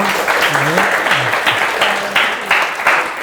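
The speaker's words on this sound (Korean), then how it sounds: "다시 한번 큰 박수 부탁드립니다" Applause rises from the audience at a Korean public science lecture on ceramic 3D printing and robot sensors, steady and full for the whole moment, with voices speaking over the clapping.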